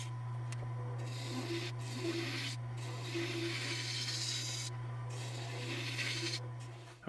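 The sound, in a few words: sanding the handle of a wooden knife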